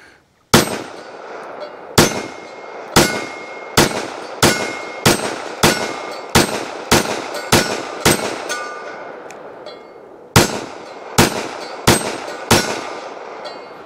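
A Walther WMP .22 Magnum pistol fires CCI Mini-Mag rounds at an outdoor range. Sharp, loud reports come in a quick string of about eleven, a short pause, then four more, each with a ringing tail.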